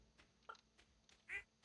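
Small cartoonish duck quacks from the farming video game Stardew Valley, a few faint, scattered calls over a quiet game background.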